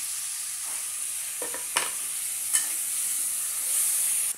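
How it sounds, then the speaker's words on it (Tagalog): Garlic sautés in a pan for a vegetable dish, a steady close sizzle with a few sharp spatters and stirring knocks, no one speaking. "Igisa na natin yung bawang."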